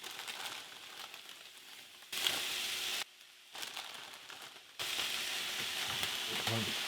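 Fresh spinach, about two cups, dropped into a hot skillet with garlic chicken, crackling and sizzling steadily in bursts, with louder stretches as leaves are stirred and pressed down.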